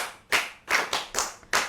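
An audience claps for a storyteller telling a Yoruba folktale about the fox and the rooster. Five sharp, close bursts of clapping come in a quick, steady rhythm.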